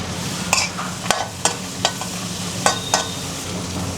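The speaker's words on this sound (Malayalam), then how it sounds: "വെളുത്തുള്ളി ഒന്ന് ചെറുതായിട്ടൊന്ന് വഴന്ന് വരട്ടെ." Garlic sautéing in a pan for fried rice: a continuous soft sizzle broken by sharp, spaced spatula clanks and scrapes against the pan, about eight in four seconds, close and fairly loud with no talking.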